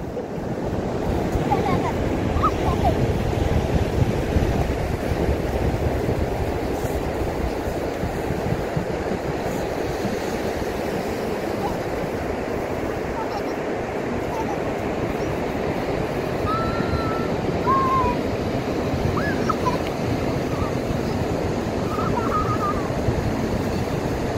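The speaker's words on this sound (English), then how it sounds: "Oh, I can hear the ocean." Ocean surf at Morro Bay, California, a continuous low rumble of breaking waves mixed with wind buffeting the microphone, steady and fairly loud throughout, with faint distant sounds now and then.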